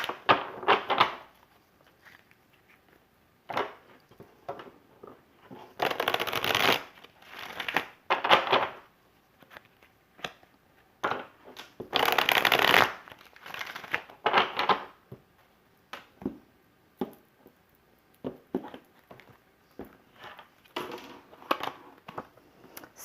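Tarot cards are shuffled by hand in irregular bursts of papery riffling and slapping, with quiet gaps between, close and fairly soft, with no talk.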